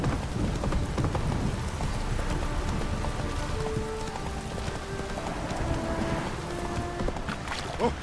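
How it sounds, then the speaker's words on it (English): A heavy rain downpour in The Witcher 3: Wild Hunt hisses steadily and loudly across the whole stretch, with rolling hoofbeats and a low thunder rumble beneath the dense wash. "This downpour's a bastard"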